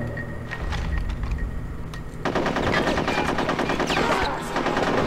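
Enemy gunfire rattles out in Conker's Bad Fur Day, starting with scattered sharp shots and then bursting into a louder, continuous machine-gun stream that dominates the last half, close and harsh.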